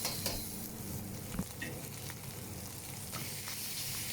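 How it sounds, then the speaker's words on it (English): Rice noodles being stir-fried in a wok for beef pad see yew, a fairly quiet continuous sizzle with occasional clanks and scraping as the noodles are tossed, close by. "Keep noodles moving, don't let them stick to the wok."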